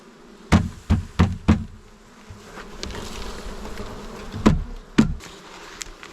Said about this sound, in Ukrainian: Оце вже рій.